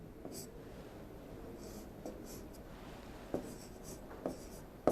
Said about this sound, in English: Then give the numerical value with H pencil.